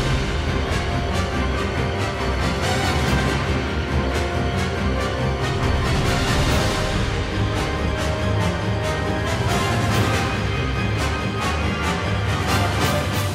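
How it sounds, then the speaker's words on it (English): Ultima's theme from the Final Fantasy XVI soundtrack: a dense, sustained orchestral passage with a haunting, slowly ascending melody and steady pulses, played loud and full with no talking. "This haunting, slowly ascending melody immediately puts Ultima into the villain category."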